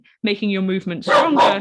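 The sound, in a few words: dog barking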